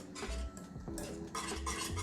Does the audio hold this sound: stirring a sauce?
yes